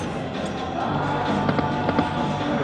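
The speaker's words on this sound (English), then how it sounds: "I'm gonna get an explosion." An explosion effect on a Dancing Drums slot machine sounds as a dense, steady rush of booming, crackling noise, loud and continuous, with a few sharper pops near the end.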